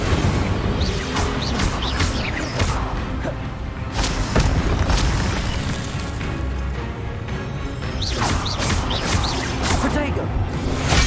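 Incendio fire spell bursts in Hogwarts Legacy: loud, booming blasts rising out of a dense, continuous wash of spell-combat effects and background game audio, with several sharp bursts spread across the clip.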